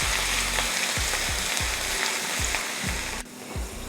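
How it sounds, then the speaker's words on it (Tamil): Ginger fries in hot oil until crispy, giving a close, dense sizzle with a rhythmic series of low thumps as the pieces are stirred. The sizzle dips slightly near the end. "அதையே இந்த எண்ணெயில் போட்டுக்கலாம். போட்டு இது நல்லா மொறுமொறுப்பாக வறுத்து எடுத்துடலாம்."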